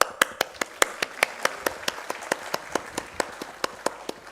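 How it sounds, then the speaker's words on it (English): Steady, evenly spaced hand claps from an audience at a medical summit in Mumbai, about four per second, with sharp individual strikes that sound like a modest group rather than a full roaring crowd. "Please clap."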